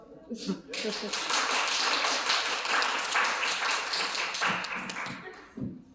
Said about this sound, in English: Round of applause for the panelists.